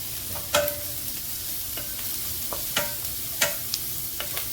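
Chopped garlic and ginger sauté in a pan for green peas kurma, giving a soft continuous sizzle broken by a few sharp spatula scrapes and taps, close up with no talk.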